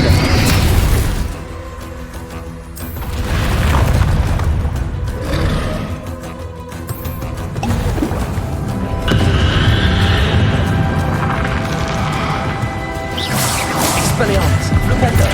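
Spell explosions in the video game Hogwarts Legacy crash and boom loudly during a combat sequence, with bursts, smashes and a roaring rumble overlapping busy battle noise and voices.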